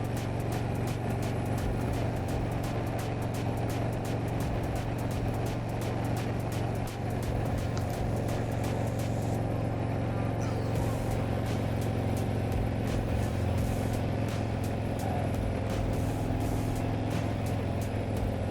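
Steady, continuous engine drone and wind rush from a 2024 Harley-Davidson Ultra Limited touring motorcycle out on a ride, holding an even level throughout.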